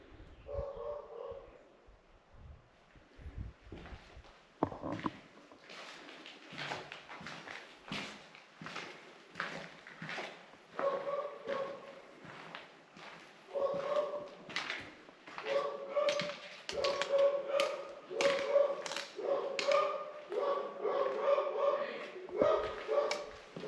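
Dogs barking in an abandoned Italian ghost town, repeated yips and barks at a moderate distance, growing more frequent later on, with footsteps and someone talking now and then.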